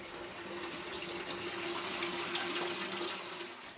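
Water flows continuously at the spring of the Morava river, a steady, even rushing trickle close by with a faint constant tone underneath and no voices.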